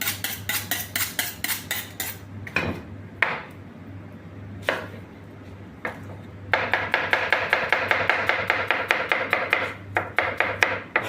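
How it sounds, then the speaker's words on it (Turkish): Rapid, regular knife strikes on a cutting board as meat and onions are chopped, with pauses and then a faster steady chopping rhythm, close and clear over a low hum. "Şimdi etlerimizi soğanlarla doğrayacağız."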